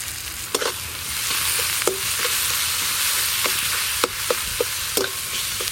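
Chopped onion and garlic paste fry in hot oil with a steady close sizzle, punctuated by sharp spatula scrapes and taps as the pan is stirred; nobody speaks.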